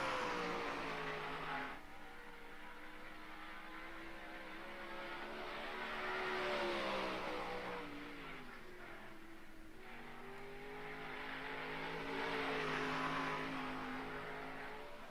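Big-block or 360 sprint car engines roar around a dirt track on a practice lap, a loud sustained drone that swells and fades as the cars rise in pitch down the straights and ease off through the corners.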